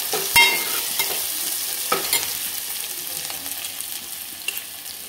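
Onions fry and sizzle in a pan for masala rice, with a steady hiss broken by occasional stirring clatters and scrapes; no voices.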